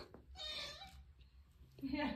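A cat meows during a family Christmas Eve gathering at home, a short whining call that rises near the end over a busy background of voices and room noise.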